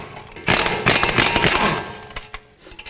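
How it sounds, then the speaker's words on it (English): Strut bolts being loosened with an 18mm socket on a 2005-2010 Pontiac G6 front strut, a loud burst of rapid ratcheting clicks followed by a few sharper metallic clacks as it stops. "Next, I want to remove these 2 strut bolts here."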